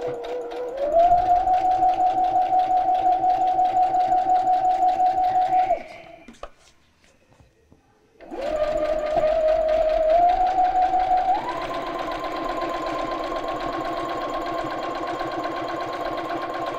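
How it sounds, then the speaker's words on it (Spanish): A sewing machine runs steady stitching passes around the contour of a fabric piece, a loud continuous motor whir that stops for a couple of seconds while the cloth is turned at a curve, then resumes at a slightly different pitch. "Por todo el contorno pasamos costura."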